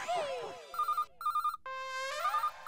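A mobile phone ringtone plays a repeating electronic melody in a sitcom scene, ringing clearly over a short stretch with a voice heard at the start.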